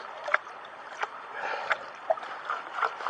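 A gold pan being washed out in water during mining cleanup: soft continuous sloshing and swirling water, with several light splashes and gritty clinks at irregular moments, close by and without talk.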